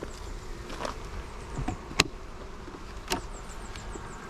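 Honey bees buzz around an opened hive during an inspection, a dense low drone with individual bees zipping close past now and then, sharp brief clicks standing out above the hum.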